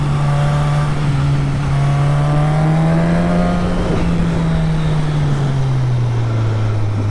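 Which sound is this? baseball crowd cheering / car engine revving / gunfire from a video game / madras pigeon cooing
car engine revving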